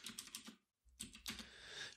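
Quiet, rapid keystrokes on a computer keyboard clatter in short bursts, with a brief pause before the typing resumes.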